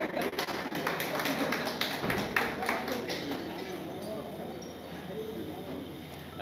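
An audience claps in a scattered, uneven patter over a room's background hum, the claps fading into softer tapping as voices murmur underneath.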